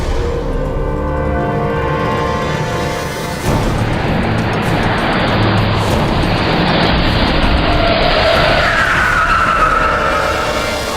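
A car pulls out of a court parking lot with a loud, steady roar of engine and tyres that shifts and swells partway through, dominating throughout with no talking.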